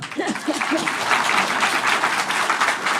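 Steady applause from an audience at a talk, dense clapping filling the whole stretch at an even level, with a few faint voices briefly audible underneath at the start.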